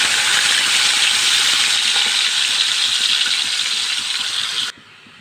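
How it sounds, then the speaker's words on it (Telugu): Raw cooking banana pieces fry in hot oil, giving a steady, bright sizzling hiss that holds evenly for several seconds before stopping abruptly. "ఆయిల్ కూడా వేడెక్కాక ఇప్పుడు అరటికాయ ముక్కలు వేసేద్దాం ఇందులో"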